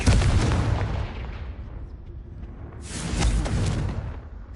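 Confringo fire spell blasts in Hogwarts Legacy, heard as two loud, close booming explosions, the first decaying into a rumbling tail before the second erupts, with no talk over them.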